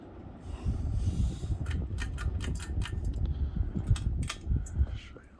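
A Windmere 42-inch hugger ceiling fan spins beneath an open ceiling, giving a low, steady whooshing hum with scattered faint clicks and rattles, gradually winding down.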